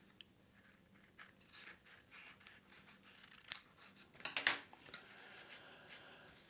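Scissors snip through a paper pop-up piece, cutting it off with a few quick, crisp clips. The cuts cluster near the end against a quiet background.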